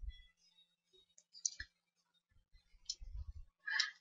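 A computer keyboard is typed on in short, faint bursts of clicks, sparse and quiet with gaps in between.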